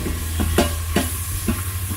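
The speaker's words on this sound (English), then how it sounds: "just kind of let these onions saute up real nicely" Onions sauté in an Instant Pot with a steady sizzle, punctuated by several soft scraping and stirring knocks close by.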